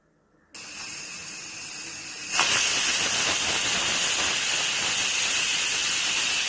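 A pressure cooker on the stove releases steam through its whistle. A sharp hiss starts abruptly, then surges louder into a loud, continuous, bright whistle that keeps going.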